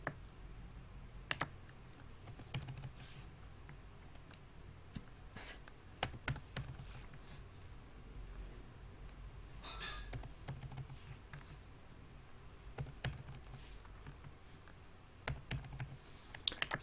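Steady typing on a computer keyboard while working in Microsoft Word, with quiet irregular key clicks and occasional louder keystrokes over a low background hum, no talking.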